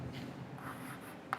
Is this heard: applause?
no